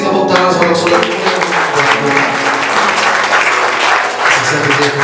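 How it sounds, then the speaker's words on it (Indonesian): A church congregation gives a sustained round of loud, dense applause during a Sunday worship service, steady throughout with faint musical tones underneath. "Sekali lagi kita kasih tepuk tangan saudara-saudara."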